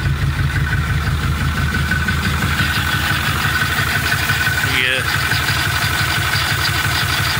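A Ford 6.4 Powerstroke diesel idling with a bad misfire, its loud, close, rhythmic clatter pulsing unevenly with a recurring skip, while a brief higher-pitched noise cuts in partway through.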